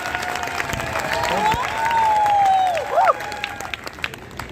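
Audience at a Hindi kavi sammelan poetry gathering in Shamshabad breaks into loud applause and cheering, with shouts and a rising whistle over sustained clapping.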